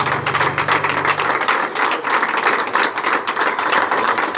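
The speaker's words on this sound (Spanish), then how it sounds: "aplauso al Señor" A church congregation applauding in praise, a dense burst of hand claps filling the room, loud and close, with a brief held tone at the start and no speech.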